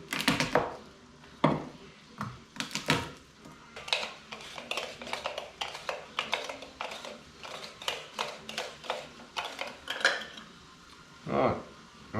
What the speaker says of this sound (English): once the garlic's nice and minced up, we can just put that aside